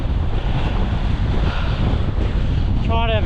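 Strong wind on open water during a parawing session, a loud steady rushing roar buffeting the microphone, with a brief voice near the end.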